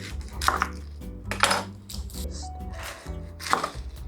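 Knife chopping a large onion on a cutting board, irregular close thuds and clicks in short bursts with brief pauses, fairly quiet, under faint music.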